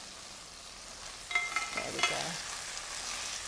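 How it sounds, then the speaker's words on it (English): Fish fries in a hot pan for a Thai sweet and sour dish, starting as a faint background sizzle, then flaring into louder crackles and spatters as the piece is moved; a voice speaks briefly. "I can hear the sizzle."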